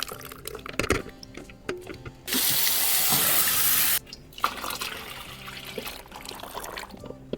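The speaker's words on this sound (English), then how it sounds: "And now I just drain out the water" Water is poured off soaked eggplant seeds and pulp through a strainer, making a steady rushing pour of about two seconds, with quieter splashes and handling noises before and after.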